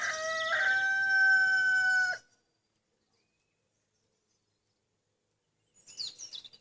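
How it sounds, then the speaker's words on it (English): A rooster crows loudly and close by, one long harmonic call of about two seconds, followed by silence and a faint brief rustle; no one speaks. "Fucking chicken."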